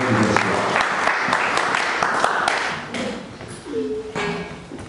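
A church congregation applauds the word of the Lord, loud scattered clapping that thins and fades toward the end, with a faint voice and a brief tone near the close.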